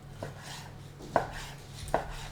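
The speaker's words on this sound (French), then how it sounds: "vous coupez grossièrement" A knife chops raw chicken on a cutting board for homemade dog treats, with three sharp, separate strikes spaced roughly a second apart, close and clear against a quiet room.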